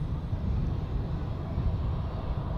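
An EasyJet Airbus A319 jet taxis at Zurich Airport, a steady low engine rumble and whine holding constant, moderately near, with no talk.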